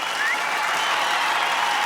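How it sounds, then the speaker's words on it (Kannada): Studio audience on a Kannada comedy show breaks into sustained clapping to welcome a performer and his team, a dense even wash of applause with a faint whistle near the start. "ಬರ್ಲಿ ಜೋರಾದ ಚಪ್ಪಾಳೆ ಹುಲಿ ಕಾರ್ತಿಕ್ ಅಂಡ್ ಟೀಮ್ ಅವ್ರಿಗೆ."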